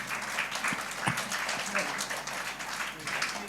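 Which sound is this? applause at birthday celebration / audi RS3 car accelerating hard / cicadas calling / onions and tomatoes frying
applause at birthday celebration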